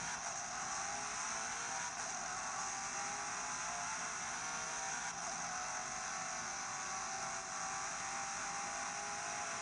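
A racing video game played on an Abxylute handheld gives a steady, faint car engine whir with a broad hissy high end, unchanging and continuous, without talk.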